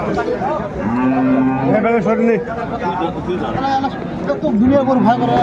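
Dairy cows and calves moo repeatedly at a busy rural cattle market in Aftabganj, Dinajpur. Several long, drawn-out calls overlap with nearby crowd chatter and general market bustle.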